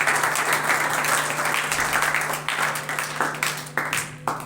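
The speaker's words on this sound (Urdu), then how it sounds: "آئیے دونوں ہاتھوں کو ملا کر زوردار تالیاں بجائیں گے" A church congregation applauds in a loud, dense crowd clapping that stays steady, then breaks into more uneven claps toward the end, with some voices mixed in.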